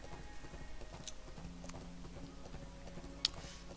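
Horse hooves clip-clopping at a steady gallop rhythm in the online video game ArcheAge, quiet and even, with a faint ambient drone underneath and a brief sharp click near the end.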